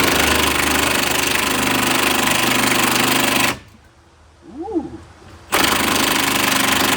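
A Milwaukee impact wrench rattles loudly while breaking bolts loose on a truck in strong wind, with two bursts separated by a short quiet gap in which a voice briefly exclaims.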